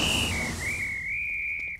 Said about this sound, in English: What's the whistle?